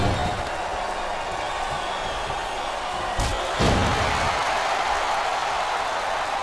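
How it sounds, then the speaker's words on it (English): A wrestling arena crowd chants in WWE SVR 08, a broad steady roar of many voices filling the space, with a couple of sharp thuds from the ring cutting through midway. "Wow, listen to that chant."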